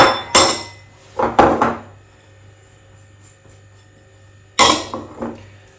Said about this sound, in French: Je les tamise ensemble donc dans mon petit bol avec la cuillère magique pour bien les mélanger